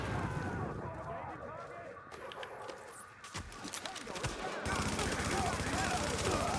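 Video game gunfire, a mix of scattered shots and rapid bursts, some close and some farther off, under a busy background and voices talking.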